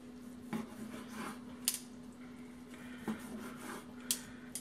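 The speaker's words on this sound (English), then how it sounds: "now we're just going to go ahead and slice up this tenderloin" A knife slices a slow-cooked pork tenderloin on a board, giving a handful of faint, sharp clinks and scrapes spaced a second or so apart over a steady low hum.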